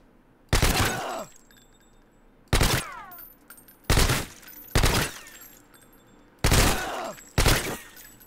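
Gunfire from an A12 in Call of Duty: Modern Warfare 2 on PC, sounding as six loud, sharp bursts spaced about a second apart, each with a brief ringing tail and no talk over them.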